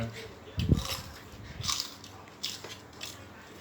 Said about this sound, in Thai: ยำกรุบกรุบกรุบอยู่นะแตงโม